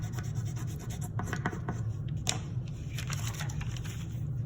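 Paper rustles, scrapes and crinkles up close while being folded back during mandala drawing, a series of soft irregular scratchy sounds over a low steady background hum.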